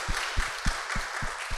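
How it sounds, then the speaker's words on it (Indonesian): An audience at a Buddhist Dhamma talk claps briefly, a close, busy patter of hands with a few rhythmic, heavier beats thumping through it. "Tepuk tangan dong."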